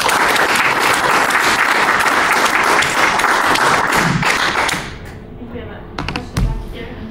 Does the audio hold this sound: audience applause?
yes